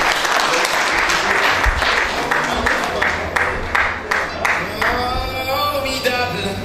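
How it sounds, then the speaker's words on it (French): Loud applause from the audience at a pharmacists' ceremony in Katanga, a dense wash of clapping that thins toward the end as some voices and crowd murmur emerge beneath it. "Nous pouvons l'applaudir."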